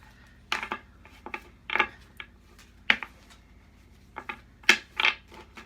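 Tarot cards being shuffled by hand in a quiet room, a series of short papery riffling bursts spaced irregularly, with a few louder flutters near the end.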